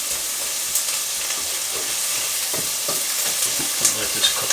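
Butter sizzles in a hot pan before turkey goes in for a turkey casserole, a steady bright frying hiss with faint stirring scrapes, close and continuous with no talking.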